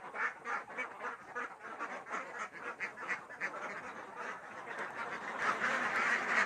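A flock of egg-laying ducks quacks continuously on a farm, a dense, moderately distant chorus of overlapping calls.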